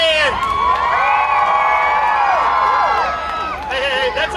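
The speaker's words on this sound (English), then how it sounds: "If you're proud to be an American, yell louder than you just did." A large outdoor crowd at an Independence Day watermelon eating contest yells, whoops and cheers loudly and continuously, with children's shouts rising above the roar.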